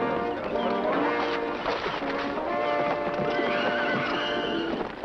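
Horses whinny loudly and repeatedly over a steady clatter of hooves, a busy, close outdoor scene with no talking.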